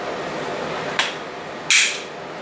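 Woodworking clamp being reversed to its normal configuration, two sharp knocks of parts sliding and seating, the second louder, over a low steady background with no talk.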